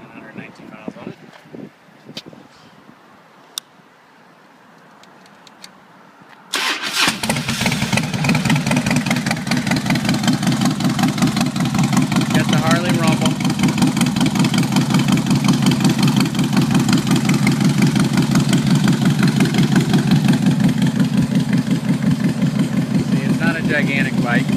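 A 2004 Harley-Davidson FXDL Dyna motorcycle with about 26,900 miles sits quietly with faint clicks, then fires up and settles into a loud, steady, rumbling idle close by for the rest of the clip.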